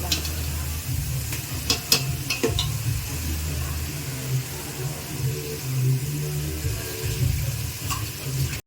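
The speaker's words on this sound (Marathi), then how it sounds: "2 ते 3 मिनिटाचं हलवलं तर झालं मसाला." Red masala frying in oil while being stirred in a pan, a steady sizzle with scraping spoon strokes and occasional clinks against the metal, close and continuous.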